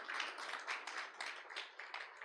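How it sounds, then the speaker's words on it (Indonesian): A church congregation claps and applauds during a worship service, a dense burst of many hands heard somewhat distant and faint, with a loose uneven rhythm across a couple of seconds. "Tepuk tangan yang meriah bagi Yesus kita yang dahsyat"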